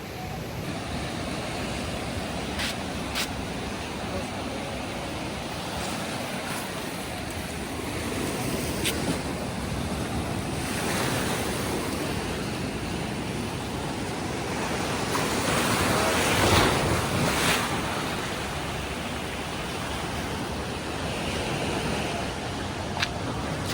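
Sea waves wash continuously onto a hot Sri Lanka beach, a steady broad roar of surf with some wind buffeting the microphone and a slightly louder swell near the end.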